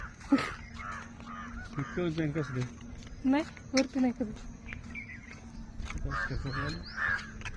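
Crows caw in hilltop trees at dawn, several harsh calls in short bursts that are mostly drowned by nearby people talking, with faint insect and bird chirps in the background.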